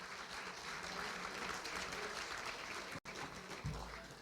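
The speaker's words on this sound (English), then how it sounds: "Big round of applause for them." Applause from the audience at a high school athletic hall of fame dinner, a steady dense clapping that fills the room, with a brief dropout near the end.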